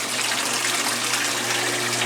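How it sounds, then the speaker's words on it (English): A 1996 Maytag Dependable Care Plus washing machine runs its spin rinse, giving a steady rushing wash of water over a low motor hum, close and continuous. "As you can see, it's doing a spin rinse."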